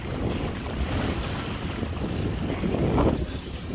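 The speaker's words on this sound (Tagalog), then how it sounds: "Mahangin, mga brothers, malalaki alon." Strong wind buffets the microphone at sea beside an island as big waves surge and wash around a small boat, a loud continuous roar swelling near the end, with no voices.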